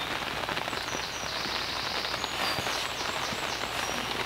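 Steady rain patters on the surface during tench fishing, a dense, even hiss of drops that holds close and constant with no talk.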